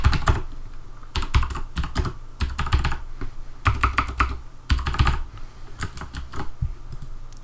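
Rapid, uneven keystrokes of code being typed on a computer keyboard come in bursts with short pauses, close and clear, with no talking.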